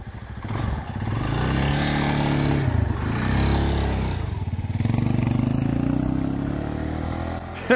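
Two motorcycles ridden by a pair of brothers from Espírito Santo rev and pull away on a Brazilian highway, engines loud and close, rising and falling through gear changes over several seconds, with no speech.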